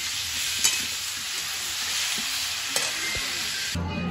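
Star fruit and tomato chutney cooking in a pan at an outdoor winter picnic, a steady loud sizzle and hiss with light stirring scrapes and a couple of brief taps, cutting off abruptly at the end.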